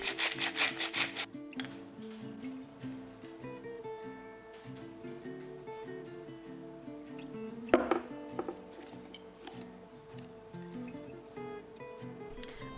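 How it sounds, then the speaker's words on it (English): Dry rub seasonings for pork ribs are stirred together with a steady, rhythmic scraping, close and moderately quiet, broken by one sharper clatter partway through, with no talking. "First thing I'm going to do is mix the seasonings together."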